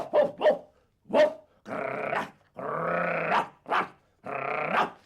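A human voice imitates a barking dog during a séance-style performance, producing about seven sharp, close woofs in an uneven rhythm, some short and clipped, others drawn out and gruff, with no other talk.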